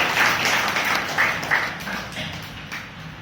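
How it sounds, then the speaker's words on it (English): Applause from the audience at a Toastmasters meeting, welcoming an evaluator, a dense clapping wash that swells and gradually thins over about three seconds. "with a big round of applause"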